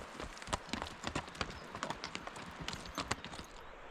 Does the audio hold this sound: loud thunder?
no